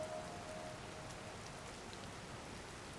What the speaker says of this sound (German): Das sieht mir nicht aus, als wenn es gleich aufhört zu regnen.